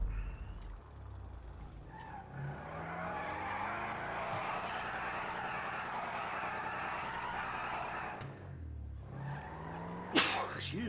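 A car's engine roars steadily in GTA V, then brakes hard with tires squealing and skidding briefly near the end, game-like and loud.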